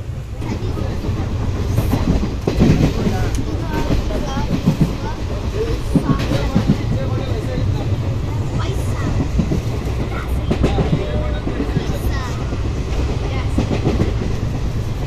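A train rolls steadily along the tracks during a passenger journey, with a continuous low rumble and rhythmic clatter of wheels over rail joints throughout, faint cabin voices mixed in.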